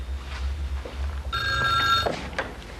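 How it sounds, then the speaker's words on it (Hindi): An old landline telephone bell rings indoors, one bright metallic ring of about a second rising over quiet room noise, with faint shuffling movement before and after. "एक सेकंड में जरा टेलीफोन सुन लो"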